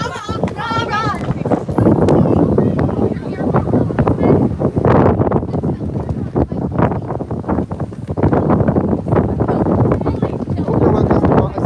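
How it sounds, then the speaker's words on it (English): Strong wind buffets the microphone outdoors on a wet, windy evening, a loud continuous roar with gusts throughout, while people talk over it. "it's very wet and windy"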